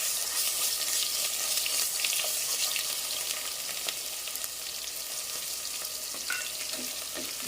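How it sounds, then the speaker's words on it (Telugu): Ginger garlic paste frying with onion in a pan, a steady close sizzle and crackle with occasional stirring, continuous and fairly loud with no talk. "ఇప్పుడు అల్లం తెల్లగడ్డ పేస్ట్ వేసేద్దాము."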